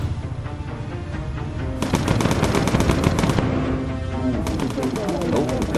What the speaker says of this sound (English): Scared them off a bit with that defensive fire.